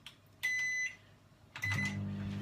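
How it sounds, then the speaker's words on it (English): A microwave oven heats chocolate for ganache on a medium power setting, giving a steady low hum that starts near the end, with two brief electronic beep-like bursts beforehand. "I'm literally popping that in the microwave, and I'm going to pop it in the first time for 1 minute on a medium setting."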